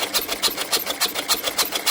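An old Lister stationary engine, a barn find idle for over 30 years, runs with reverse rotation after a hand-crank start, its rapid even chuffing beats repeating about five times a second, close and loud with no talk.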